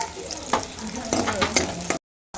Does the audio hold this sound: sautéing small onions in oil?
yes